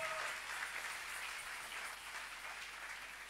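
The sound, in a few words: congregation applauding in church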